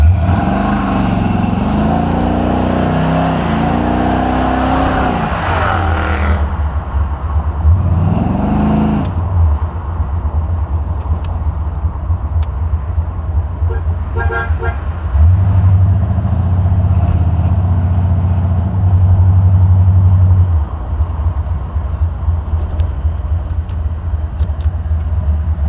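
A Buick 455 Stage-1 Regal T and a supercharged 600 hp Range Rover roar loudly as they launch side by side, engines revving and climbing in pitch, easing off briefly, then surging hard again for several seconds.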